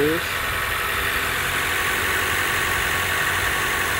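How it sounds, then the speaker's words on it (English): The four-cylinder engine of a 2019 Toyota Camry LE idles steadily up close, an even low rumble with no revving or change across the short stretch. "Just a regular four-cylinder. So of course that's your engine."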